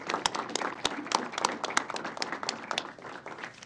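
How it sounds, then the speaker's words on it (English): A modest round of applause from a small crowd at a utility board of directors meeting, scattered claps at an uneven pace, fairly quiet and fading slightly toward the end. "Let's give them a round of applause"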